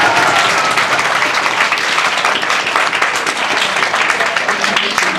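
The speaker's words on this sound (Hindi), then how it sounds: "फिर एक बार जोरदार ताली बजाओ" Sustained applause from an audience at a coaching-institute event honoring a JEE Main topper, dense and loud throughout with crowd noise and some voices mixed in.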